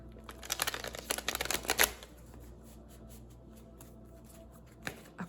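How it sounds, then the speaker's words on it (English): A deck of tarot cards is shuffled in a rapid burst of riffling flicks for about two seconds. A quieter stretch with a few soft taps follows. "I'm gonna shuffle one more time."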